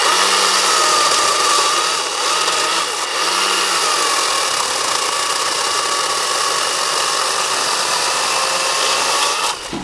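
An OOGarden e-Moov 40V battery chainsaw cutting through small-diameter wood, a loud steady high-pitched electric whine that runs almost without a break, dipping slightly under load before stopping at the end.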